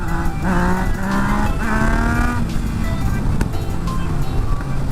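A 2015 Yamaha MT-09 Tracer motorcycle engine revs loudly and close, its droning pitch climbing and falling over several throttle blips, with rough crackles running through it.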